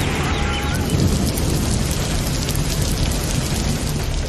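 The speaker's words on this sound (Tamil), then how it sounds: "வேலூர் மாவட்டத்தில் பல்வேறு பகுதிகளில் சூறைக்காற்றுடன் கனமழை பெய்தது." Heavy rain lashes down with strong, gusting wind across Vellore district, Tamil Nadu, a dense, steady roar with low rumbling throughout and no voices.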